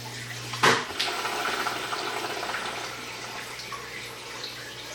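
Water drains from an aquarium overflow tube back into the sump, starting with a sudden gurgling splash and settling into a steady trickling rush that continues at moderate loudness.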